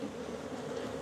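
Many honeybees buzz densely around a hive during a swarm division, a continuous close drone with no other sound.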